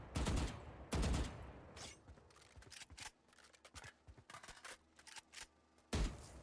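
Bursts of rapid gunfire from a Valorant match, fired in short volleys while the player strafes left and right, with two heavy, loud sprays at the start and end and lighter scattered shots and footsteps between.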